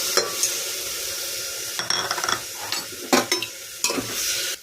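Chopped vegetables with rice and lentils for a vegetable khichuri fry in a pan, a steady close sizzle broken by several scraping stirs and clinks of a spoon against the pan.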